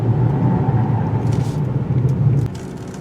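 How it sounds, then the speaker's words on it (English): A 2018 Mitsubishi Outlander Sport in four-wheel drive spins its tires, giving a loud, steady low engine rumble and drone close by that eases off near the end. "Well, still spinning the tires, but a lot more traction."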